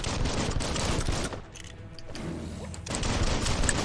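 Rapid bursts of gunfire from a shooter in the video game Biomutant, loud and dense, with a short lull in the middle before the shooting resumes.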